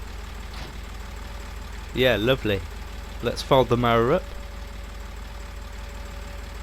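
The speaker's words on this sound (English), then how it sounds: "this tractor's only about 60 horsepower" Tractor of about 60 horsepower with four-wheel drive and a front weight, its engine idling steadily as a low continuous rumble while someone speaks briefly over it.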